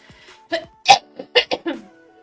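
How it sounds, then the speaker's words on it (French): A woman streamer coughs several times in quick, uneven bursts, close to the microphone, with short gaps between each cough. "Désolée pour ma toux."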